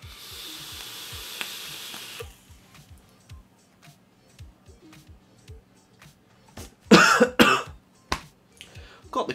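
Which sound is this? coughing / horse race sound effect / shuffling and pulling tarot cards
coughing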